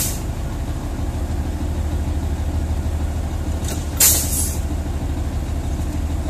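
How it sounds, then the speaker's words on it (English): Truck air brake system during an in-cab air brake test, with a steady low engine idle throughout and a short sharp hiss of air brake release around the middle as the brake is pressed and the governor cuts in. "I'm going to step on the brake one time until the needle stabilizes"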